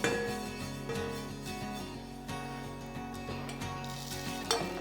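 Coriander seeds and fennel dry-roast in a pan, giving a light rattling sizzle with scattered clinks of a spoon against the metal. Steady music plays underneath and nobody speaks.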